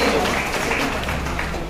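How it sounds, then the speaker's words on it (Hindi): Brief, steady applause from a political gathering audience welcoming a speaker, a dense wash of clapping throughout. "सभी लोग तालियों से स्वागत करेंगे।"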